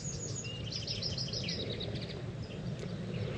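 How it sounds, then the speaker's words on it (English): Birdsong from several birds chirps and trills steadily through an outdoor ranch setting, bright calls repeating over a constant low background hum. "You got the birds chirping"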